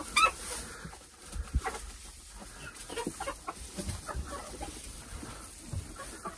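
Hens cluck softly and intermittently in an insulated passive-solar chicken coop built for extreme cold, with scattered low calls over a faint background hum.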